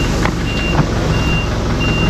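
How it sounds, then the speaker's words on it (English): A truck backs up with its reversing alarm sounding steady, evenly spaced high beeps, fairly close, over a loud continuous engine rumble and outdoor noise. "I'm rolling with the truck."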